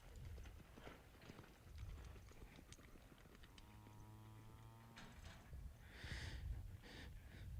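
Horse hooves clip-clop on arena ground at a ranch horse clinic, near a heading box, in a steady, fairly quiet rhythm, with a brief tonal whine partway through and no speech.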